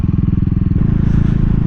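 A 2022 CCM Spitfire Bobber motorcycle on the move, its engine throbbing loud and steady with a rapid pulsing beat and a shift in tone partway through, close and continuous with no talk.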